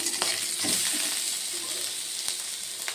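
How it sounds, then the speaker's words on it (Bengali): Eggplant pieces frying in oil in a pan, a continuous close sizzle with a few sharper crackles and pops, no talk. "এবার বেগুনগুলো ভাজার জন্য দিয়ে দিয়েছি। বেগুনগুলো একটু ভেজে নেব।"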